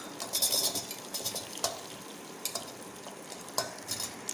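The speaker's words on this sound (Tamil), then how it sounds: "போட்டு நல்லா வதக்கி விட்டுடலாம்." Onions with cumin sauté in a pan for a chicken curry, a quiet close sizzle with a few light scrapes and taps of a spoon stirring, no voices.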